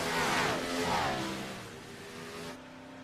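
Big Block Modified race cars in iRacing roar through turns 3 and 4 on lap 10 of a feature event, a loud sustained engine drone with rising and falling pitch as cars pass, fading slightly toward the end.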